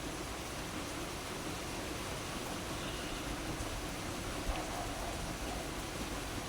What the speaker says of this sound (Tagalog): Pero biglang umulan.